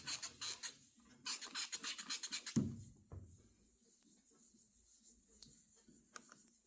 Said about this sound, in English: You just want to sand and keep cleaning it off and see where you're at.